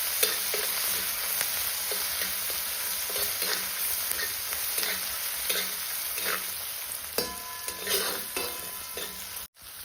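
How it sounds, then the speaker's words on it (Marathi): Curry leaves frying in hot oil with a garlic, coriander and ginger paste for a village-style bitter gourd dish cooked over a wood-fired stove, giving a steady close sizzle with light stirring scrapes and no talk. "लसूण कोथिंबिरीचं आणि आल्याचं वाटण टाकून घेतलेलं आपल्याला तेलामध्ये छान तळून घेतले"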